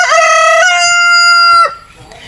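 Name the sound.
chickens clucking and crowing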